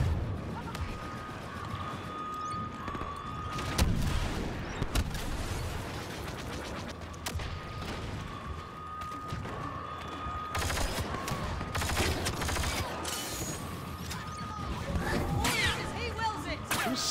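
Xbox One shooter gameplay with repeated bursts of gunfire and sharp single shots scattered throughout, mechanical clicks in between, loud and busy, while players talk over the action.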